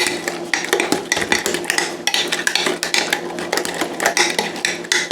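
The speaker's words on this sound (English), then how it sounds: "And we're going to mix that as well." Ingredients for a banana cranberry loaf being mixed in a bowl, with a continuous close, loud scraping and clinking of a utensil against the bowl in quick irregular strokes.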